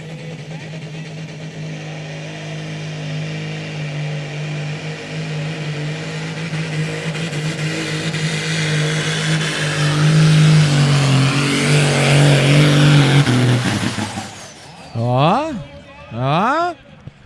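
A Super Sport 4.5-ton class pulling tractor at a European Championship tractor pull drones loudly and swells as the pull goes on, then cuts off abruptly, followed by an announcer speaking.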